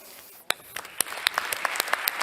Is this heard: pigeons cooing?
no